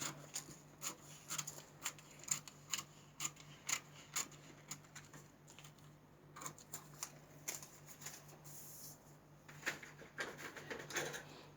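Scissors trim a fabric skirt pattern in a run of crisp snips, some steady and rhythmic and some irregular, close and fairly quiet against a low hum, with no talking.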